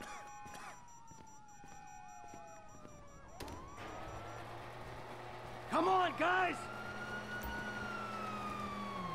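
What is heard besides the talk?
police sirens in a video game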